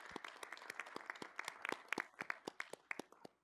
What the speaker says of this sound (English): So if we can all applaud the East Tennessee Association of Realtors.